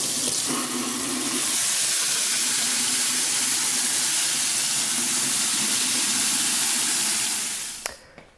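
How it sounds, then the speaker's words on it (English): Rice rinsed under a running kitchen tap for a dog-food beef stew: a steady, fairly loud rush of water lasting several seconds before it cuts off with a small clunk. "when I'm working with rice, I like to give it a quick rinse before cooking it"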